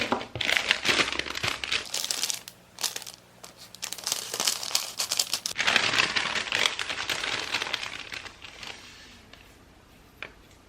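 Aluminium foil being crinkled and pressed into homemade fingertip covers, loud close rustling and crumpling in bursts with a short pause, no talking.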